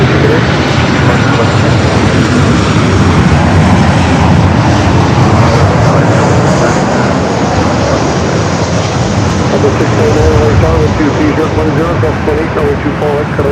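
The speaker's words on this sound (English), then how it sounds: "I got an ANA heading up here for north side at takeoff, heading back to Tokyo Narita." An ANA airliner taking off from the north side of LAX toward Tokyo Narita, heard as a loud, sustained jet engine roar that holds steady throughout, with people talking over it.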